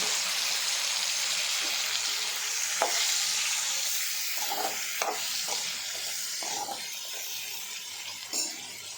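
Tomatoes and onions fry in a pan for an anchovy fish curry, with a loud, continuous sizzle close by and occasional scrapes of stirring.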